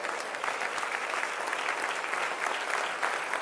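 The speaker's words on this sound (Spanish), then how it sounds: "Den un aplauso a Dios." A church congregation applauds in steady, dense clapping that holds at an even level throughout, with no talk over it.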